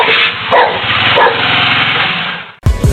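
A dog tied to a pole outside a house, caught as two men on a motorbike steal it: a loud, strained, continuous barking or yelping sound dominates for over two seconds, followed by a sharp different burst at the end.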